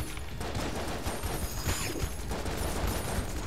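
Rapid gunfire from a weapon in the video game Enter the Gungeon, a dense, continuous crackle of shots with no pauses and no talking.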